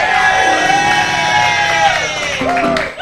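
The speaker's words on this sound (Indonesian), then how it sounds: "Tepuk tangan dulu dong sekali lagi yang meriah." A studio audience at an Indonesian TV talk show cheers loudly, with whoops and yells in a short, close burst.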